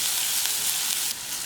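Garlic, green chilies and curry leaves sizzle steadily in hot oil, a dense, continuous frying hiss close up with no voices.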